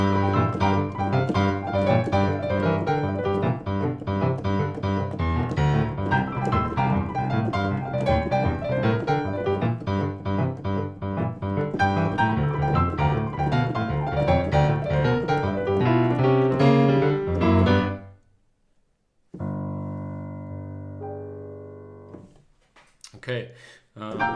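Boogie woogie piano played at speed with slap rolls, a dense, driving run of rapid percussive chords and bass notes, followed by a brief pause, a short sustained chord and a few scattered notes.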